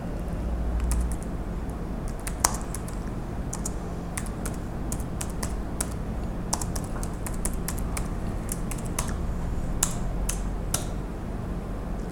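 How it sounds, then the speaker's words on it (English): Rapid key presses on a computer keyboard while code is entered, a close, steady stream of light clicks with short pauses, heard alone without talk. "Just I am typing some code."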